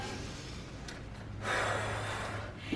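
A deep breath is drawn in and let out during a full-body circuit workout, soft and close, with a faint gasping inhale followed by a longer airy exhale over quiet background.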